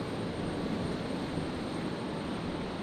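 An aircraft landing on runway 01 right at Brisbane Airport at night, heard as a steady, loud broadband jet roar with a faint high whine throughout, without talk.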